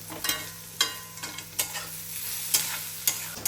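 Onion, green chili and garlic sautéing in a pan: a soft continuous sizzle punctuated by sharp, irregular scraping strokes of a spoon stirring, close up, with no talking.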